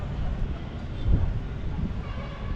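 A train rumbles at Belagavi railway station, a steady low rolling noise with a brief heavier swell partway through, fairly close and continuous throughout.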